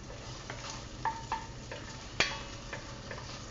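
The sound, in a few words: sausage browning in a pot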